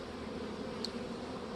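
Honey bees buzzing at a hive being prepared for queen-rearing mating nucs, a close, continuous droning hum with no voices over it.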